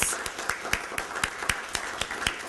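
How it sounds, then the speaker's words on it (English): Applause at a conference following a prose reading, with a few sharp, regular claps standing out near the microphone over a softer background of clapping from the room. "let's give a round of applause for this"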